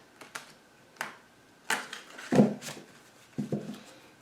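Soft, irregular papery flicks and clicks of tarot cards being shuffled, a few quick bursts with short pauses between, close and fairly quiet.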